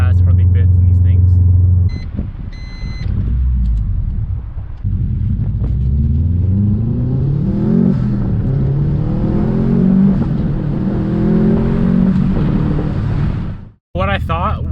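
A Subaru WRX STI in limp mode revs repeatedly up and down in a loud, close rumble, each climb cut off short before dropping back, with a brief sharp break near the end.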